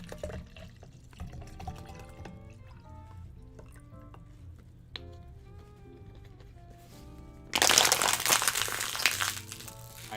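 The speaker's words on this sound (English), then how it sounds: "I try to compact the water bottles that I use and put them in the recycling bins" Plastic water bottles are scrunched and compacted by hand for recycling, soft crinkles and pops at first, then a loud burst of crumpling near the end, close up with no voices.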